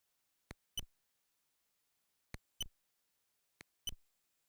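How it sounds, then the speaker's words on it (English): Soft electronic beeps from the computer role-playing game Centauri Alliance come in three spaced pairs, each a short blip followed by a slightly longer one, faint and isolated against silence. "Beeped at me."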